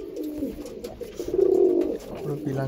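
A pair of pilanka-eyed breeder pigeons, the hen pattee-marked and the cock a mature adult, gives one swelling, throaty coo up close, brief and fairly loud.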